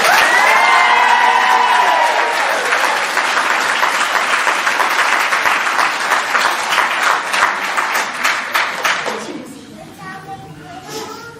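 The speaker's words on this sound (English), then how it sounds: "can I please ask for a special Westerwood round of applause for this so much in love couple, Greg and Victoria" Wedding guests break into loud applause with cheers and children's voices for the newlywed couple; the clapping holds strong, then thins out and fades near the end as scattered voices carry on.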